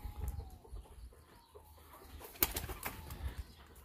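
Chickens squabble inside a homemade nest box built from a cable reel, giving scattered clucks and a sudden burst of wing flapping near the middle, with low rustling and bumps throughout.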